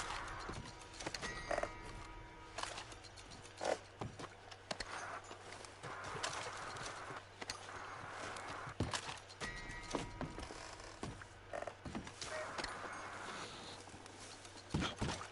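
A horse in the video game Red Dead Redemption 2 clip-clops along at pace, hooves thudding in a steady run with occasional snorts and a brief whinny, fairly quiet over a low ambient bed.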